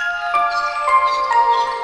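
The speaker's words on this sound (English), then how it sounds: "So let's go to the last sound, which is this music box." A DRC synth music box patch plays a few bright, bell-like plucked notes at a gentle, steady pace, each chiming over the lingering ring of the last.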